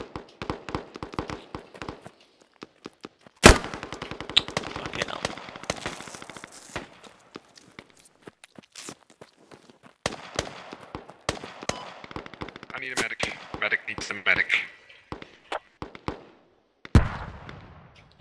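Gunfire in the tactical shooter game Squad crackles in sharp bursts and scattered single shots, some loud and close, others distant, with occasional talk between the volleys.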